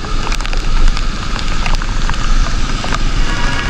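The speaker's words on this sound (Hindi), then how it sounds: "ज़बरदस्त बारिश, ठंडी ठंडी बूंदे" Heavy rain falls on a street in Azizabad, Karachi, a dense, loud, continuous hiss of drops with scattered sharper taps from nearby surfaces and a low rumble beneath, with no voices.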